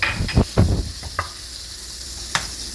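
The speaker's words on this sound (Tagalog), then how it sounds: "Iinitin na, melt natin ang butter." Soft, crackly sizzle of butter melting in a hot pan, with a few scraping stirs near the start and a brief louder pop later on.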